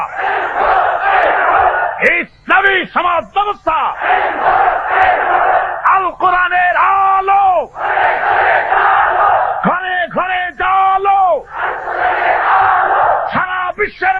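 A large crowd at an Islamic religious gathering in Bangladesh repeatedly shouts the slogan Nara-e-Takbir in loud unison, with a leader's call and mass roaring responses alternating in rhythmic bursts.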